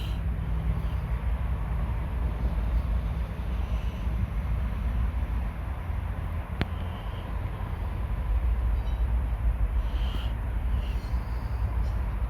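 A train running through a Chicago-area rail yard gives a steady, loud low rumble of rolling cars throughout, with a brief sharp click partway and faint high squeals near the end.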